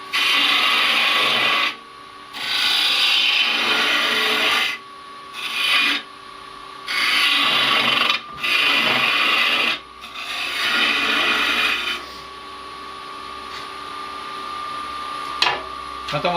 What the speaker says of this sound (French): Maintenant on va poncer le verre